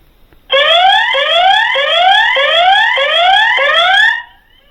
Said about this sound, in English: Has a siren.